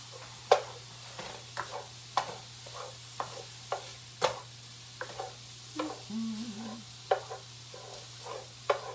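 Sausage sizzles in a pan over low heat, a soft steady frying hiss broken by regular sharp clicks and pops, with a low constant hum underneath.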